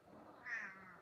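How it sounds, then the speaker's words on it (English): A male cat gives a single soft, drawn-out meow, faint and close, rising briefly in pitch, with no talking over it. "I really hope you can hear him because his meows are so cute."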